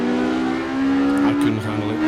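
A 1960s race car from the Le Mans era, driven in a sports-car racing game at Riverside, roars steadily up close, its engine note climbing and shifting pitch as it accelerates.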